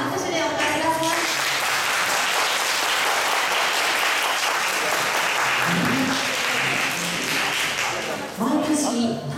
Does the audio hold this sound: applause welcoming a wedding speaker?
yes